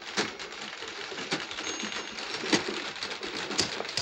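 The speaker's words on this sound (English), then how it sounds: "She's typing away." A typewriter with its ribbon come loose from the keys clatters steadily in a film scene, dense rapid key strikes with occasional louder carriage knocks, close and continuous.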